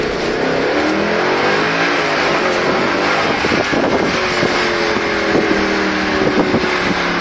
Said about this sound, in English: Listen to that. Is that not a nice V8?